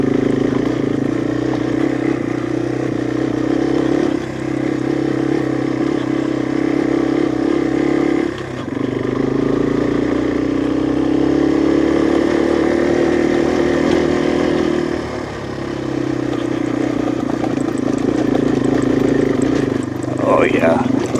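Yamaha TW200 dual sport motorcycle riding over rough terrain, its engine a continuous mid-pitched drone that dips briefly a couple of times, heard close with wind noise and occasional speech over it.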